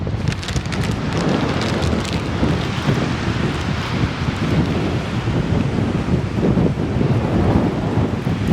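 Strong wind gusts roar without a break into the microphone at Two Medicine in Glacier National Park. The buffeting is loud and continuous, with a deep rumble and no voices.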